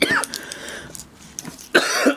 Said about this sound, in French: Oh, désolé pour la toux.